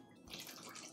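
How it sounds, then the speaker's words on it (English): Water poured through a funnel into a spray bottle makes a steady, close splashing rush that starts after a brief quiet moment and continues to the end. "So let's just fill up our spray bottle."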